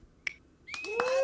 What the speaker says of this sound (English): I was not expecting the clapping